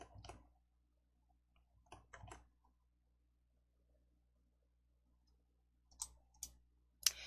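Computer mouse clicks while working in a block-coding program: a few soft, isolated clicks spaced seconds apart, with a quicker pair and a final crisp click near the end, faint and close over near silence.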